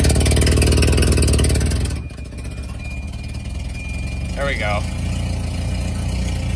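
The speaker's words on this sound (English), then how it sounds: "And you can hear that exhaust leak pretty easily." A Volvo 240 engine with an exhaust leak runs loud and close, dropping from a higher roar to a steady idle about two seconds in, with someone speaking briefly over it.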